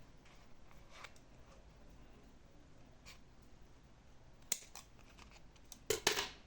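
Scissors trim a sandal insole template. A few crisp snips stand alone and close near the end, after a quiet stretch.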